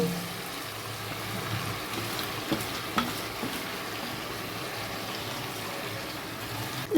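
Chicken pieces stir-fry with spices in a pan for Kolkata-style biryani, giving a low, steady sizzle with occasional scraping stirs and a few soft clicks, fairly quiet throughout.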